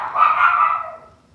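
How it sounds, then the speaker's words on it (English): A dog barks once in a single drawn-out, close bark that fades over about a second, heard alone with no talk. "Sorry if you hear my dog barking."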